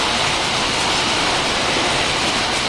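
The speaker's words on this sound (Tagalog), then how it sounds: "lumalakas ang ulan" Heavy rain pours down in a dense, steady hiss that holds at full strength with no gaps, the roar of water on surfaces completely filling the sound.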